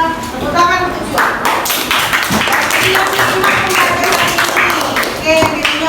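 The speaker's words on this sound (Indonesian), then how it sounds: "Tepuk tangan untuk Cua." Classroom applause for a student, a burst of clapping and tapping from a group of children, with voices talking over and around it throughout.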